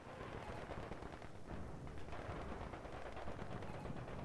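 An artillery barrage and gunfire in the video game Company of Heroes 2 form a dense, continuous rumble of distant blasts and overlapping shots, with no clear pauses.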